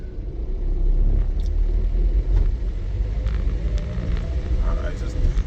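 Steady low engine rumble and road noise fill the cabin of a moving car, a constant droning hum throughout.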